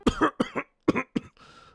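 Four sharp, close coughs come in quick succession, followed by a short, rough throat-clearing sound, all from one person with nothing else audible.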